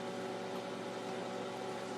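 A microwave oven runs with a loud, steady electrical hum and fan drone throughout; no distinct pops stand out from the even noise.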